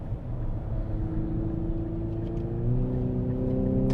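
Engine note from an Infiniti QX50S, a 4,200-pound SUV with a CVT, accelerating: a steady droning hum with a rising tone, heard from inside the cabin, with no talking.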